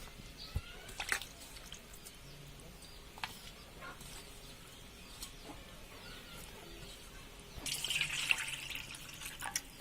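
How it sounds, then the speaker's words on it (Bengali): Tap water runs as small fish are washed in a kitchen, with a soft, faint trickle and splashing that grows louder near the end, plus occasional clinks and background chatter. "মাছগুলোকে আমরা আরেকবার ধুবো।"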